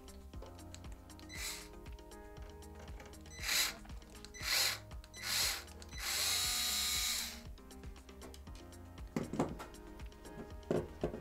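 A power screwdriver unscrews the last screw inside an Xbox Series X console, with several short whirring bursts and one longer spin, separated by small clicks and handling taps from the parts.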